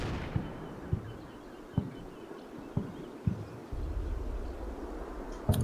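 Mortar rounds slam around anti-tank guns on a seaside battlefield in a World War II strategy game, landing as about half a dozen dull, moderately distant thuds at uneven intervals over a low rumbling bed, with no talking.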